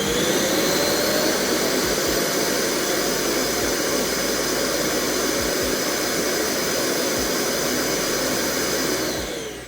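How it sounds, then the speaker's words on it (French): An iRobot Roomba J7+ self-emptying base station runs its evacuation cycle, a loud, steady jet-like roaring suction that holds constant for about ten seconds before cutting off, with no voices. "le bruit de la station de vidage est assez élevé"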